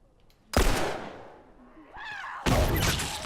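Two loud gunshots in The Last of Us Remastered, each a sharp broadband blast with a decaying tail, spaced about two seconds apart, with faint game ambience and a brief tonal sound between them.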